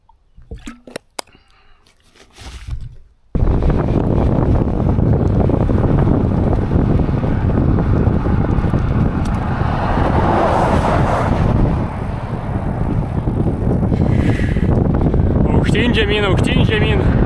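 A strong headwind buffets the microphone during a ride, loud continuous roaring gusts after a quieter start, with a voice faintly heard.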